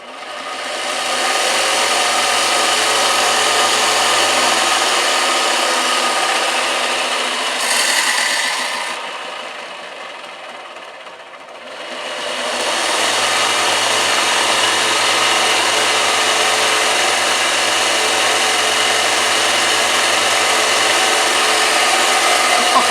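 A Parkside bench grinder/sander runs loud and continuous with a coarse abrasive roar, briefly easing and dipping partway through before returning to full, steady power, with no talking.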